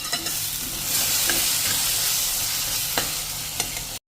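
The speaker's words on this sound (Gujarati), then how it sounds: "હવે આ બધું આપણે મિક્સ કરી લેશું" A spoon stirs and mixes brinjal ora with fresh coriander in a hot pan, scraping and clacking at irregular intervals over a steady close sizzle, with no talk.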